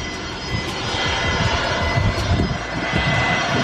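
A loud aircraft engine roars nearby at an airport, a steady powerful drone with rumbling low surges, no voices.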